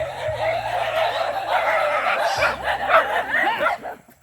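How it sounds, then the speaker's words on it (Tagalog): Several dogs bark and yip close by, overlapping in a busy cluster, with a low steady hum underneath. "Daming aso dito."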